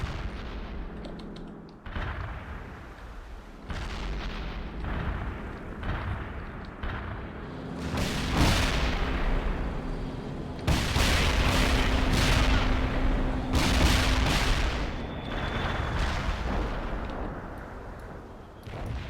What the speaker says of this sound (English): danger close there with the bombs